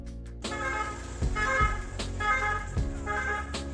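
Mercedes-Benz Sprinter ambulance in Andorra sounding its two-tone siren, with repeating wailing tones cycling steadily and a low vehicle rumble underneath, fairly close and clear.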